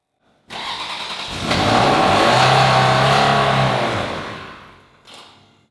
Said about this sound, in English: if this Ferrari model hasn't been driven for a long time, that it needs to start up 3 or 4 times before it really keeps running